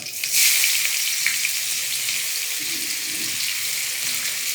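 Lote fish (Bombay duck) frying in hot oil in a home kitchen, giving a loud, steady broadband sizzle that swells sharply near the start and holds evenly throughout, with faint low clinks beneath.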